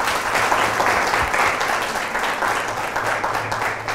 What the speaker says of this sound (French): des applaudissements s'il vous plaît.